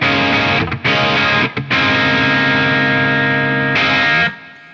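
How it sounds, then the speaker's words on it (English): Electric guitar through a crunchy overdriven amp strums sustained distorted chords, with two quick muted breaks, then rings out and cuts off near the end. "This is what the dirty channel on my amp sounds like."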